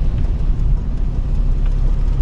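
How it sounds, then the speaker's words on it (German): A truck drives past at an outdoor oldtimer market in wet weather, a steady low rumble of engine and tyres close by, with no voices. "Oh, der LKW fährt auch drauf."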